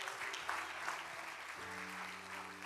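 A church congregation applauds during a sermon, a soft, continuous wash of clapping at a distance, with a low sustained keyboard or organ tone underneath and no talk.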